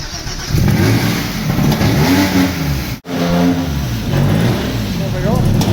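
A non-running Vauxhall Cavalier 2.0 16V C20XE, with its fuel pump wired direct, cranks, catches and revs loudly. The engine note rises and falls in surges, cuts out briefly, then picks up again with more revving.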